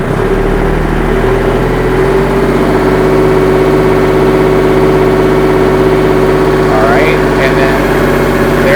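A Kubota L2501 tractor engine runs up toward 2000 RPM during a hydraulic pressure check, giving a loud, close, steady drone with a constant pitch and no voices over it.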